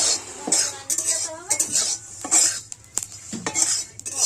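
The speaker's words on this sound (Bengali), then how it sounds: "ভাজা হয়ে গেছে, একটা দুটো ফুটতে শুরু করেছে।" Whole spices and chillies dry-roasting in a pan for a sugar-sweetened raw mango pickle masala, with a metal spatula scraping and clinking against the pan in irregular strokes and a faint sizzle underneath.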